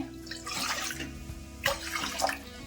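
Water being poured from a cup into a pot set on the stove, about one and a half cups, a steady splashing pour heard close up with no talking.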